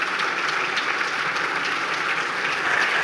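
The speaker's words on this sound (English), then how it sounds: "Nice round of applause for Matt." Audience at a police federation annual conference breaks into a steady round of applause, a dense, even wash of clapping from many hands sustained throughout with no talk over it.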